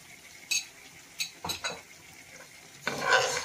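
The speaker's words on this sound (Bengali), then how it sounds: "চালটাকে ভাজতে হয়" Rice being stirred and fried in a pan for chicken biryani, with a few separate scraping and clinking strokes of a spoon against the pan and a brief sizzle, close up and fairly quiet.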